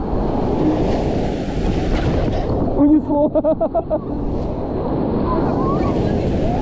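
Surf washing onto a shallow sandy beach at Tangalle, a steady wash of waves with wind buffeting the microphone, while a voice speaks briefly over it partway through.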